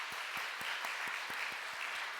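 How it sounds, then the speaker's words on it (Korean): Applause from a church congregation welcoming a pastor to the front, a steady wash of many hands clapping throughout with no voices on top. "네, 박수하겠습니다."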